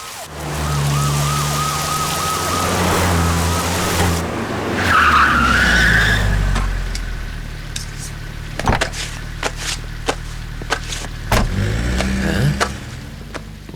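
Police vehicles pull in with tyres skidding and a wailing siren rising at the start, engines rumbling and braking, then car doors thudding and sharp knocks as the vehicles settle close by.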